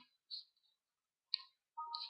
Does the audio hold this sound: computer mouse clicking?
yes